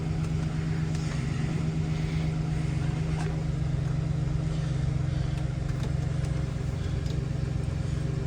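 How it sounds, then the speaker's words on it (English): A V8 truck engine idles steadily with a constant low hum and no change in pitch, heard faintly on its own. "That's a V8."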